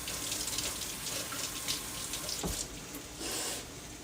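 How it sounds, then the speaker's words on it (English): Steady running tap water rinsing produce in a kitchen sink, a continuous close gush that shifts slightly in tone as the produce moves under the stream, with no talking. "I'm just gonna rinse this because it kind of felt a little drippy."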